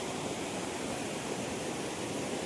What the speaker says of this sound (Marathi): पाणी वाहत आहे आपल्या इथून चारी साईडनी. हे असं पाणी वाहत चाललंय